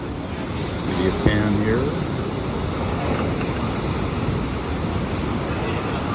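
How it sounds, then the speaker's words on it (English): Large storm surf at Honolulu pounds the shore in a broad, continuous roar of waves and wind, with someone talking briefly over it near the start. "surf like this hasn't occurred since 1995, so it's an unusual event"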